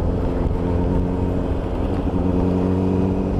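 Motorcycle riding through sandy, construction-torn Hamburg streets, its engine droning steadily and loudly up close, a continuous buzzing rumble with no talk over it.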